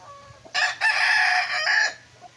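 An eight-month-old Milsim Black gamefowl rooster crows once nearby, a loud drawn-out call of about a second and a half, with faint clucking before it.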